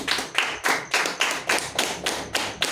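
A church congregation claps for Jesus Christ in a rhythmic, unison beat of about nine sharp claps, evenly spaced and fairly close, with no talking over them.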